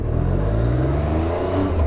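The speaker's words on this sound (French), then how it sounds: "tu te mets en première et sans toucher au gaz, juste je lâche l'embrayage, la moto s'élance toute seule" Triumph 765 Street Triple R motorcycle rolling off at idle in first gear with no throttle, a smooth engine note rising gently in pitch as it gathers speed, close and steady, no voices.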